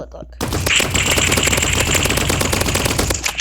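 A long burst of fast automatic AR rifle fire in a video game, loud and continuous after a short quiet lead-in.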